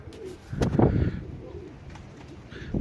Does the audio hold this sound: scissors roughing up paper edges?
no